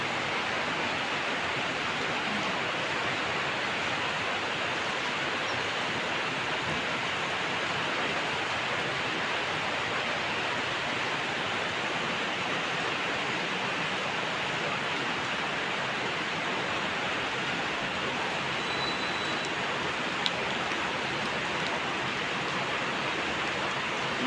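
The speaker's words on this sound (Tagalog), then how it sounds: "Lakas kaya ng ulan." Heavy rain pours steadily and evenly, a dense unbroken hiss that holds at the same loudness from start to finish with no voices.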